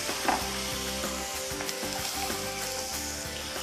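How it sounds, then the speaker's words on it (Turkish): Onions, garlic and carrots sizzle loudly in a pan while being stirred, with steady crackling frying and brief scraping stirs, close up and without speech. "Soğanlarımı sarımsağımla karıştırıyorum güzelce."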